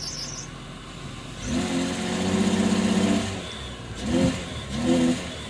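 A car engine that won't rev past 2,000 revs up in a steady, harmonic drone that holds for a couple of seconds, then two shorter blips of throttle follow, fairly close.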